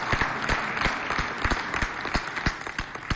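Audience applause at a Festafrica show on girls' schooling, a steady crowd of clapping with many sharp individual claps across a few seconds, fairly close and continuous.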